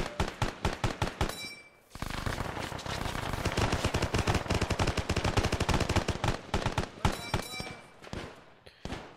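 Sustained automatic gunfire in the video game Arma 3, squad weapons firing at a target: spaced single shots give way to a dense, continuous barrage, then trail off into scattered final shots.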